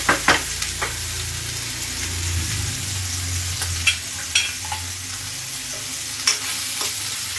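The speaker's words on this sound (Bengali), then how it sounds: "জাস্ট এটা একটু একটু ফ্রাই হয়ে গেলে আমি আবার এটাকেও তুলে নেব।" Large cubes of paneer fry in a pan, a steady sizzle with occasional soft stirring knocks and scrapes, close and unaccompanied by talk.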